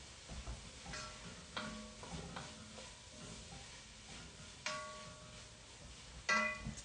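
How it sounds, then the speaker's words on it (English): Leeks sizzle in a pan during home cooking of potato leek soup, a quiet continuous frying hiss broken by occasional clinks and stirring scrapes of a utensil. "I hear sizzle."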